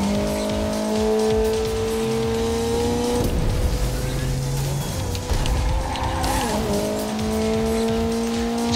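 In the Ridge Racer Unbounded video game, a race car drifts with a sustained engine whine and long tire squeals. Steady tonal engine notes bend and shift as the skids swell and fade over several seconds.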